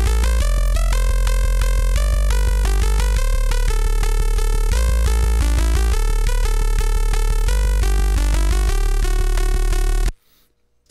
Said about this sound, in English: you could instead modulate just the level of the oscillator,